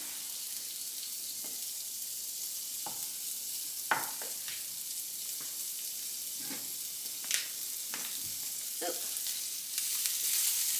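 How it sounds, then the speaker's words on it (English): Sliced onion frying in a pan for a Romanesco curry: a steady bright sizzle throughout, close up, punctuated by occasional stirring scrapes and clicks, growing slightly louder toward the end. "Going to fry that until it's pink."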